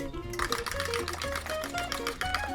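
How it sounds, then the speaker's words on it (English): A fork whisks eggs in a bowl with quick, rhythmic clicking taps as the yolks and whites blend. Faint tonal music plays underneath. "Whisk them up with a fork until the yolks and the whites are completely blended and smooth."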